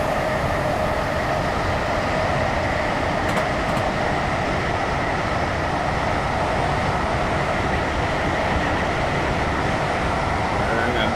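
A train running in Train Simulator 2019 on the line from Milton Keynes Central toward London Euston, a loud, steady rumble and rattle of the wheels and motors that holds unbroken throughout.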